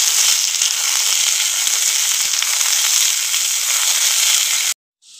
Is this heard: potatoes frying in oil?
yes